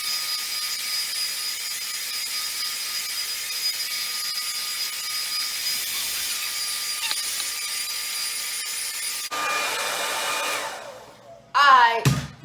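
A blow dryer on the cool setting runs steadily through natural hair, a continuous airy whir that changes tone near the end, followed by a brief louder burst of fumbling noise.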